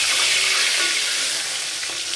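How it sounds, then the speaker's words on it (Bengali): Pomfret fish frying in a pan gives a steady, loud, close sizzle of hot oil that runs without a break, with no voices. "পমফ্রেট মাছটা ভাজা হচ্ছে"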